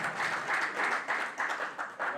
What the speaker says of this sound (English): Clap louder, clap louder.